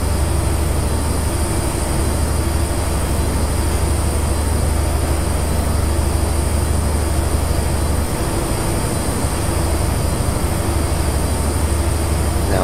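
A high-speed HST diesel train at full throttle, heard from inside the cab in the Railworks 3 simulator: a loud, constant engine drone and rumble, unbroken throughout, with a steady high whine on top.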